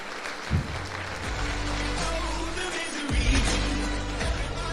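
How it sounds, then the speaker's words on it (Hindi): An audience applauds loudly and steadily, a dense wash of clapping from a large crowd that holds throughout. "एक बार जोरदार ताली इनके लिए हो सकता है।"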